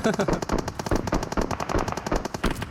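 Automatic gunfire rattles in fast, dense bursts during a PUBG Mobile match. It stays loud and close throughout while a player talks over it.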